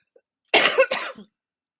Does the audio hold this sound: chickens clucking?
no